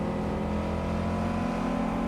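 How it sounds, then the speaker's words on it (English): A car engine roaring steadily and loudly in the medieval game Kingdom Come Deliverance II, sounding like a vehicle speeding up close from behind, with a constant drone and no voices. "I heard a car racing up behind me"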